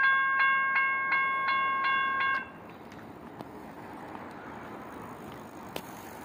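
A train passes a railroad crossing in Auburndale and Lakeland. A crossing bell rings in a steady repeated pattern for about two seconds, then stops, leaving a continuous low rumble of rolling rail cars with a few faint clanks.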